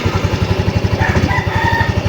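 A Yamaha Mio scooter engine idles close by with a steady, even putter of rapid low pulses, running on its own throughout with no talking.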